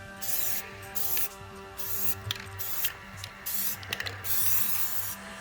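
Spray paint hisses onto a Roland AX Edge keytar in a series of short bursts separated by brief pauses, close and fairly quiet over a low background hum.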